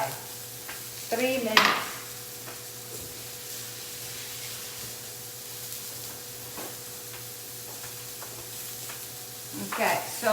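Vegetarian patties pressed onto a hot grill sizzle in a steady broadband hiss, with a brief spatula scrape near the start and again at the end and a few words spoken briefly.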